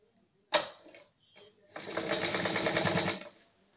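A sewing machine runs a side seam on a dress, a short burst then a steady, close whirring run of stitching lasting over a second before stopping.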